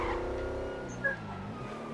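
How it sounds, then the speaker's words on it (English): Hot rod car engine in GTA 5, a steady low rumble with rich harmonics, holding at moderate volume throughout with a brief bump near the middle. "I think it is a hot rod."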